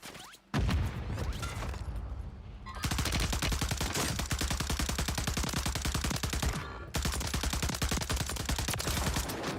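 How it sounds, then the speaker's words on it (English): Automatic weapon fire in the Warzone battle royale game comes as sustained rapid bursts, loud and close, broken by a brief pause near the middle before the shooting resumes. "I stopped shooting halfway through because I wanted to reset my aim on this weapon"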